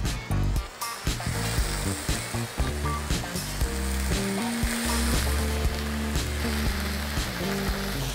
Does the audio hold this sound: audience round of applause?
no